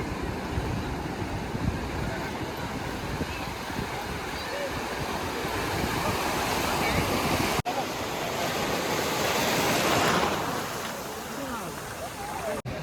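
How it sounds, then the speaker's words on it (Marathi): Ocean waves breaking on a South Goa beach, a continuous broad surf roar close by that swells and eases, with voices faintly underneath. "तुम्ही लाटा बघू शकता"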